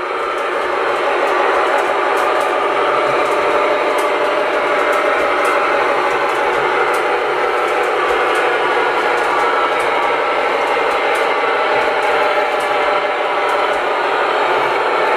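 An MTH SD-90 model locomotive runs steadily while pulling a heavy load, giving a continuous loud whirring rumble with faint repeated ticks throughout and no talking.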